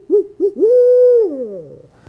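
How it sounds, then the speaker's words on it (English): A barred owl hoots at dusk near a lake, close and clear, with two short hoots and then a long drawn-out call that slides downward at the end. "barred owl."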